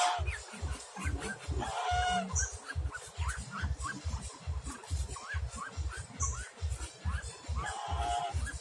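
A flock of chickens, ducks and a goose cluck, quack and chatter together without a break, close by and fairly quiet.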